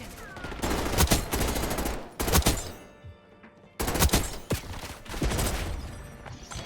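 Video game gunfire comes in several loud, close bursts of rapid shots, separated by short pauses and one longer quiet gap before the shooting resumes.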